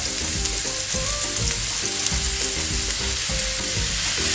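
Boiled radish greens and garlic sautéing in a pan give a loud, continuous close sizzle and crackle, with faint clinks and stirring movements underneath and no voices.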